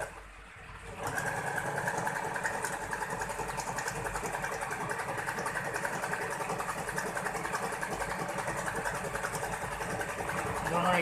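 An Usha Janome Allure automatic sewing machine stitching fabric in a home demonstration, a steady, fast mechanical whirring hum that starts after a second and runs continuously, close and moderately quiet.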